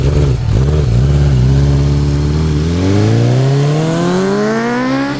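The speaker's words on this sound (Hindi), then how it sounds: "मोटरसाइकिल पर सवार हुआ और किक मारकर उसके इंजन में जान डाल दी" A motorcycle engine roars loud and close after a kick-start, climbing steadily in pitch as it revs hard, a continuous snarling rise with no voices over it.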